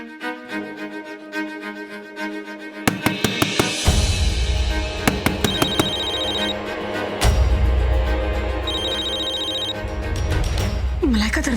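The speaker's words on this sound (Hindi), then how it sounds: "लगता है शेखर का फोन है।" A telephone rings in repeated bursts of bright electronic tones, mixed with clattering and background sounds, with a voice briefly heard.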